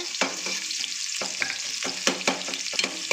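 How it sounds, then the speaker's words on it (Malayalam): Onions frying in ghee for a leg-piece chicken biryani, a close crackling sizzle punctuated by sharp scrapes and taps of a stirring spoon in the pot. "ഇപ്പോൾ ഓണിയൻ ഫ്രൈ ആക്കണം"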